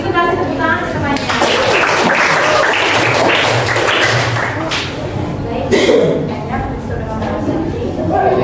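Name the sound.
applause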